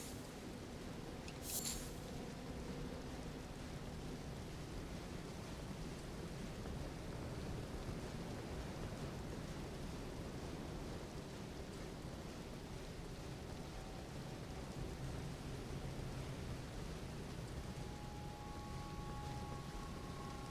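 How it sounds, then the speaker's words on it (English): Steady rain hisses in the video game Elden Ring, a broad continuous wash of falling water holding evenly throughout, with a brief crackling burst early on and faint tonal hums later in the background. "Oh, it's raining."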